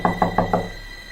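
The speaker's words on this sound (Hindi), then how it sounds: "खलल तब पड़ा जब दरवाजे पर अचानक दस्तक हुई।" Four quick, evenly spaced knocks on a door, crisp and close, used as a sound effect in a Hindi horror story told on a rainy night, followed by quiet background hum.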